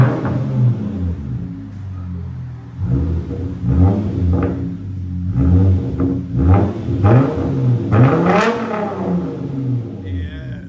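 A 2016 Hyundai Genesis Coupe with a 3.8L V6 and muffler delete revs loudly up close in several rising and falling bursts, reaching about 111–112 decibels, its raspy exhaust roar swelling to a peak near the end, with people talking over it.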